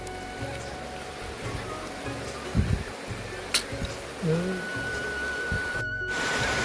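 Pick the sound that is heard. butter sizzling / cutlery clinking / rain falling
rain falling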